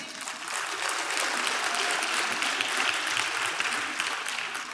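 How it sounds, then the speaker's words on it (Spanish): Church congregation applauding together in a sustained, dense burst of clapping, steady and fairly loud for several seconds with no voices on top. "Le damos un aplauso al Señor."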